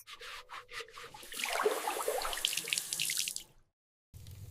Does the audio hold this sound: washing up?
yes